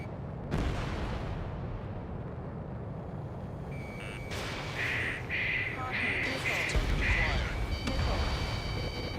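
Missiles striking enemy tanks in the combat flight game Ace Combat 7, heard as a few explosive impacts over a steady roar of engine and wind, with a string of short beeps and a voice talking.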